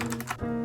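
Keystrokes typed on an older Corsair mechanical keyboard with RGB backlighting, a quick burst of several close, distinct clicks and clacks at a brisk pace with no talking.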